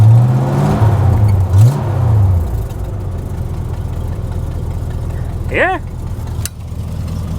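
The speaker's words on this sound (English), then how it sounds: "Definitely hear the header leaking." A Ford Ranger's 302 5.0 V8 with a leaking exhaust header runs and revs up close, a steady rough engine drone with a brief rising rev, with a person speaking over it.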